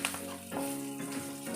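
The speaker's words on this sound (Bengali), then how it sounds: "লঙ্কাগুলো একটু ভাজা ভাজা হয়ে গেছে, কালো জিরেও ভাজা হয়ে গেছে" Green chillies and nigella seeds frying in hot oil for a Bengali potato dish, giving a steady, close sizzle with a crackling hiss that runs through the whole short stretch without any talking.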